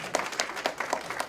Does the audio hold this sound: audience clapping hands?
yes